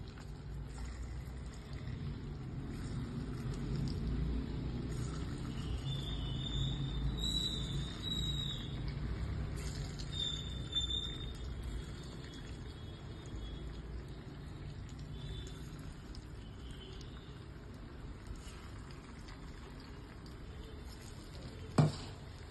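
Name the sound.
potato Manchurian deep-frying in hot oil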